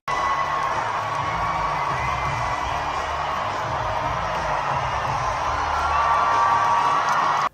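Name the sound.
live audience cheering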